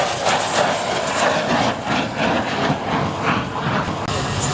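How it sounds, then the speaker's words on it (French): A Super Étendard jet on a fast, slightly sideslipping approach at the 2011 Cerny La Ferté-Alais air show gives a loud, continuous roar with pulsing turbine rumble. "Voilà la vitesse d'approche d'un super étendard vers le Black Pool."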